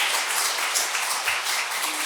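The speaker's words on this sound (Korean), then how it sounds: "박수 한번 주세요." An audience at a Dharma talk in a temple applauds, a brief, dense burst of many hands clapping close by that fills the short moment.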